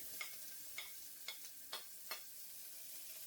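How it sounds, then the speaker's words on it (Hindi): Onions frying in hot ghee: a faint, steady background sizzle broken by five short scraping strokes of a spoon stirring in a regular rhythm, with no one talking. "घी अपना गर्म हो चुका है, तो सबसे पहले डाल देते हैं अपनी प्याज"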